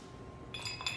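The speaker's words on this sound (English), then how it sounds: "in this one, we're going to put a couple of ice cubes" Ice cubes clink into a wide-mouthed rocks glass for a Negroni, two or three bright, close, fairly faint knocks in the second half after near silence.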